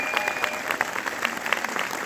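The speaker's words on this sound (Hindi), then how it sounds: "दीपक सर के लिए जोरदार तालियां।" Loud, vigorous applause from a crowd at a seminar or training event, with dense sustained clapping and no voices.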